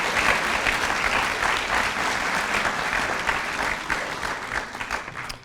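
Sustained applause from an audience at the Marine Memorial welcoming author Robert Kaplan to the stage, steady and full throughout before thinning slightly at the end.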